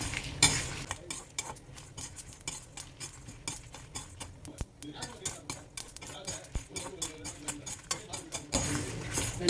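Dry red chillies with stems removed being roasted in a pan for curry leaf rice, with rapid scraping and clinking of a spatula stirring against metal over a faint sizzle, close by.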